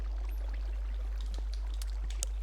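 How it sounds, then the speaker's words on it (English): Faint, steady flowing water trickles and pours in Minecraft on the 2B2T survival server, with a low constant hum beneath and a few small clicks. "Can we stop the water?"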